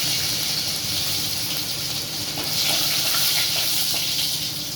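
Ginger frying in hot oil with mustard seeds and cumin for a banana flower poriyal, a steady close hiss and sizzle, swelling slightly partway through, with no talking.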